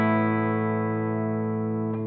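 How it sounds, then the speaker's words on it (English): A single strummed chord on a clean Nik Huber Krautster II electric guitar with coil-tapped humbucker rings out and sustains steadily for about two seconds, bright and slightly twangy, before being muted. "I was using it there in the coil tap mode, and I think that humbucker sounds incredible"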